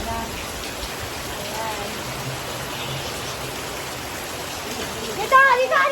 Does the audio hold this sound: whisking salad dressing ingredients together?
no